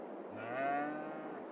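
A single drawn-out cow moo from a Farming Simulator 22 dairy herd rises and falls over steady background ambience, fairly faint and alone without talk.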